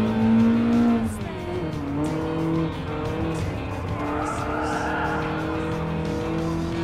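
A BMW M3 Sport Evolution, the classic late-1980s sports car, races in Gran Turismo Sport, its engine droning steadily with shifting pitch as it runs alongside other cars, with faint tire squeal.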